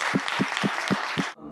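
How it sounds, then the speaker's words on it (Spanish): An audience claps, a dense wash of hand claps with steady rhythmic beats running through it, then it stops abruptly. "vamos a pedir un gran aplauso para ustedes"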